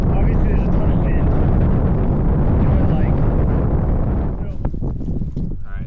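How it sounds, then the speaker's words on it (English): Strong wind roars steadily into the microphone of a rider on a mountain bike trail, a dense low buffeting that eases slightly near the end as faint clicks come through. "Obviously, there's a ton of wind."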